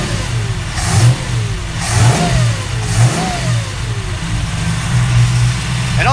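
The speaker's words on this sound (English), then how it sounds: "And watch us rev it." A Chevrolet C10 squarebody engine fitted with a Progression Ignition Bluetooth distributor, idling around 850 RPM, is revved several times in quick bursts. Each rev rises and falls over a steady, loud idle rumble, with no talking.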